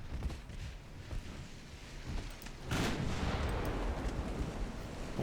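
Destroyers fire their naval guns in the warship game Ultimate Admiral Dreadnoughts, a continuous rumbling barrage of booms that swells louder partway through and stays heavy to the end.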